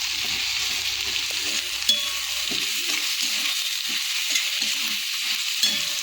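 Potatoes and spinach fry in a pan with turmeric, chili and coriander powder, giving a steady broadband sizzle throughout. A few soft stirring scrapes and taps sit under it, with no talking.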